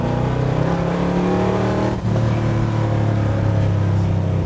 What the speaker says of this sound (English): Put some revs on this thing and let you hear the engine.